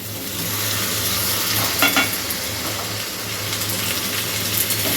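Tricolour bell peppers and onion hit a hot frying pan alongside zucchini, producing a constant loud sizzle with a brief burst of scraping and stirring near the middle, no voices present.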